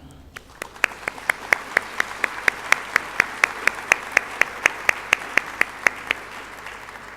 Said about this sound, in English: Please give them a strong applause.